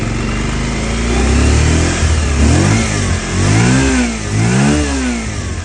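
A Bajaj Pulsar 125 BS6 motorcycle with a starting fault revs up close, loud and uneven. The engine swells and dips in repeated surges rather than holding a steady pitch.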